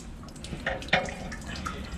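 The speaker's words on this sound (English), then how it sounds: "Here's the leftover" Leftover water drains from the water heater of a 2002 Roadtrek 190 Popular Class B RV during winterizing, a soft, close trickle with scattered splashy drips.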